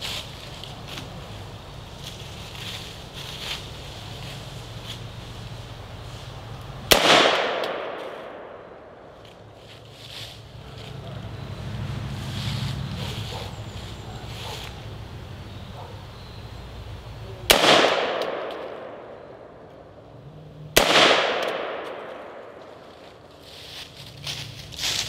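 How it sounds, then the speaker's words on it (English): Full-auto fire from a prototype gun during a test, with three sharp, loud bursts that each decay into a ringing echo, spaced several seconds apart against outdoor background noise. "Test number two, full auto fire."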